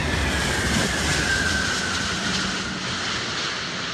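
Loud, steady roar of the An-225 Mriya cargo aircraft's engines, a continuous broadband rumble with a faint whine, holding constant throughout with no voices.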